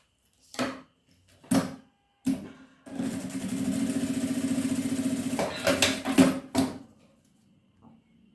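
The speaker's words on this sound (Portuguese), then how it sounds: "Vou passar uma costura na parte de baixo também." A sewing machine stitches a seam along the bottom of a translucent plastic card holder. It begins with a few short bursts, then runs in a steady, rapid mechanical chatter for a few seconds before slowing into brief stops.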